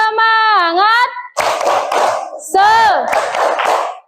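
A class of schoolchildren chants a spirit cheer in an Indonesian classroom, then breaks into quick rhythmic bursts of group clapping, alternating chant and claps twice.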